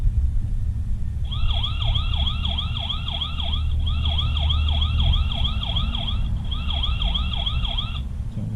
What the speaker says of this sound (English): I wanted to give you a little demonstration of the siren here, so here we go.